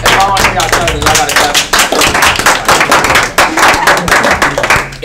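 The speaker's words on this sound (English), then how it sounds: "One more large clap." Loud, close audience clapping with sharp, distinct hand claps in a rapid uneven rhythm, broken by brief dips, with voices mixed in.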